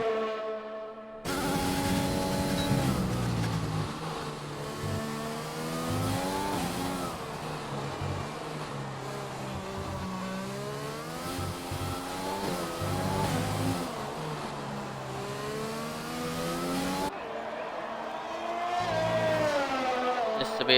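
Race car in a racing video game lapping on medium tyres through a set of esses, engine revving and shifting pitch loudly and continuously, with a commentator speaking over it.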